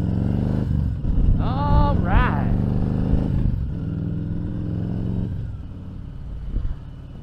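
A motorcycle rides on a road with a loud, steady engine drone close up, rising in a couple of quick revs before settling into a constant rumble, with wind noise and a voice talking over it.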